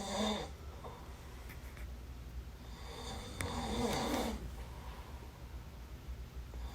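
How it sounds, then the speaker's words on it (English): A person snoring with rough, rasping breaths, a loud one near the start and a longer, louder one around the middle, over a steady background hiss. "the snoring experience"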